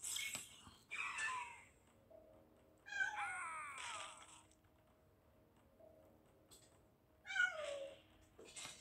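Domestic cat meowing indoors, three or four separate clear, close meows spaced a few seconds apart over a faint steady ticking background.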